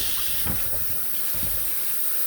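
Hard fruits such as apples are rinsed under a running kitchen tap, a steady hissing stream of water broken by a couple of splashing bursts as the fruit passes through it.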